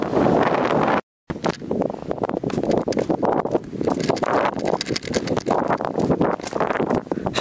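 Strong wind buffets the microphone outdoors in Hokkaido, a loud continuous roar with rustling gusts that cuts out for a moment and then resumes.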